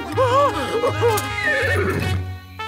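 A cartoon horse in a Zorro animated series whinnies loudly in a sequence of rising and falling neighs at close range, followed by lower snorting, with a voice shouting over part of it.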